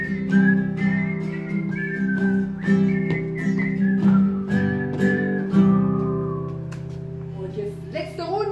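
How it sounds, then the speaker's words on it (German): People whistling a wavering tune together at a Friday morning circle gathering, loud and close, with pitch sliding between notes for several seconds before trailing off near the end. "Einmal pfeifen."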